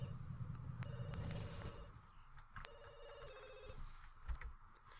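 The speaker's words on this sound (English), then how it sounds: "Answer the phone." A telephone rings in The Sims 2, two bursts of electronic trilling bells over a low background game hum, no talk.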